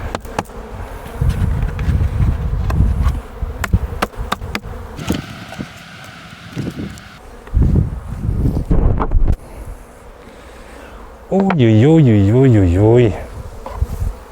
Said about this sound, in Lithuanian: Kiek bitučių šioj šeimoje.